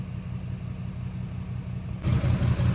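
A car drives down a road with a steady low engine rumble and road noise, heard close and continuous, growing noticeably louder and heavier near the end.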